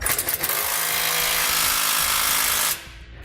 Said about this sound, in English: I'm going to come back with a 19mm socket and snug up all my hardware.